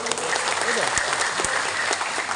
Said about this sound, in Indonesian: Tepuk tangan untuk Bapak Nur.